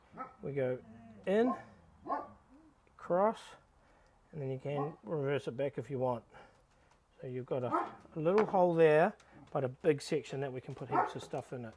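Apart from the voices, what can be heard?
dog barking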